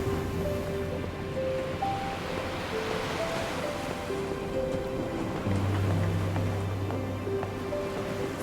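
Turbulent ocean waves rumble and wash steadily against a ship at sea in NieR Reincarnation, a dense roaring surf with soft sustained musical tones drifting over it.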